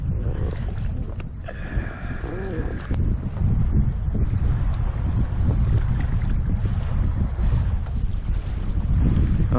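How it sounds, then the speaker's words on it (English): Wind blowing across the open ocean off Hawaii during kayak fishing, a steady buffeting roar with microphone wind noise and water sloshing against the hull, building louder partway through. "Uh-oh, wind's picking up a little bit."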